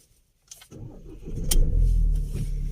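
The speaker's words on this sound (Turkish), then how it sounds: "Tekte marş aldı arkadaşlar." A Ford Transit Custom van engine cranks briefly and catches on the first try in snowy cold weather after sitting two days, then settles into a loud, steady idle close by.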